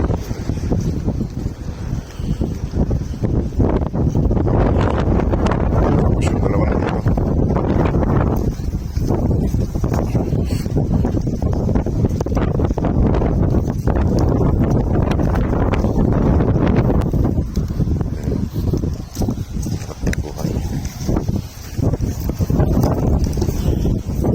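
Strong wind roars steadily across the microphone outdoors, gusting and buffeting throughout with no clear voices.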